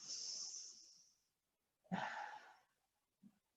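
During a guided stretching routine, a person takes a long audible breath, then a sharper, louder exhale follows after a pause, with a brief faint breath sound at the end; close and quiet otherwise.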